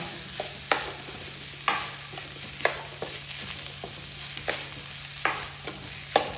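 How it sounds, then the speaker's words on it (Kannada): Ground masala being stirred into a hot onion tempering in a pan, a steady close sizzle with sharp spoon scrapes about once a second, no voices. "ಗ್ರೈಂಡ್ ಮಾಡಿಟ್ಟಂಥ ಮಸಾಲೆ ಮಸಾಲೆ ಹಾಕಿ ಒಮ್ಮೆ ಈ ಒಗ್ಗರಣೆಯಲ್ಲಿ ಚೆನ್ನಾಗಿ ಮಿಕ್ಸ್ ಮಾಡುವ"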